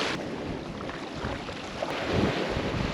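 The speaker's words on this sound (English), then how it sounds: "the wind has come up a little bit, so sorry if it's a bit windy" Gusty wind buffets the microphone outdoors at a remote coastal campsite in Francois Peron National Park, a steady low roar of rumble and hiss lasting throughout with no voices.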